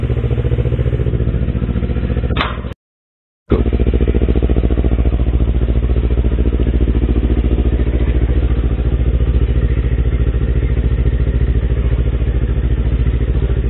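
Motorcycle engine idling while warming up from cold, a loud steady mechanical putter close to the mic, broken by a brief drop to silence early on before the even idle resumes.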